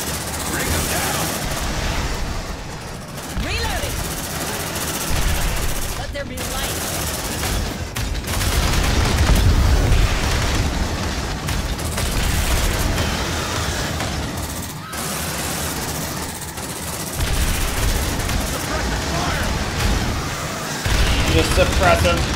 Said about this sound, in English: The suppressive fire fucking everywhere.